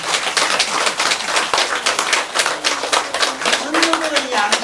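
Hall audience at a Buddhist sutra lecture bursting into steady applause, many hands clapping densely and fairly close, with a brief faint voice near the end.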